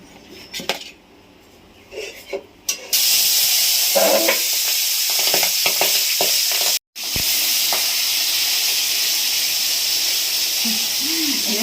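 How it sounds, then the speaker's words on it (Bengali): Singi catfish frying in hot oil in a home kitchen, a loud, steady sizzle that starts abruptly and carries on unbroken, with brief clinks of utensils and stirring before it begins. "এবার আমি মাছ ভেজে নেব"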